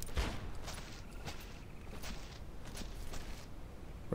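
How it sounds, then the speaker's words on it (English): Faint, distant gunshots crack sporadically in the video game DEADSIDE from an unseen shooter, several sharp reports spread over a quiet ambient background. "Where the fuck's it shooting from?"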